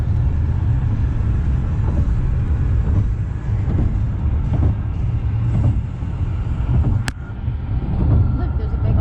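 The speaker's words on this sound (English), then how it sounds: "We're now driving through Chicago on the highway." A car drives along a Chicago highway, a loud steady low road rumble and engine drone heard from inside, with faint murmured voices beneath it.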